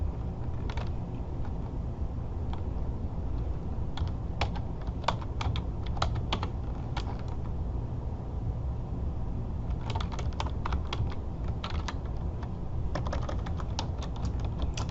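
Search query typed on a computer keyboard, with clusters of crisp key clicks in quick bursts separated by short pauses, close and fairly quiet over a faint steady room hum.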